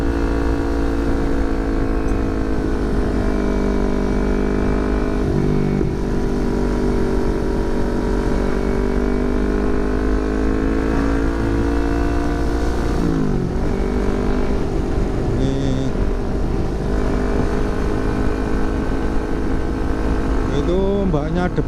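A motorcycle engine idles while warming up, then revs and pulls away on a ride between Solo, Jogja and Gunung Kidul. A loud, continuous droning hum holds throughout, with a pitch swing about midway.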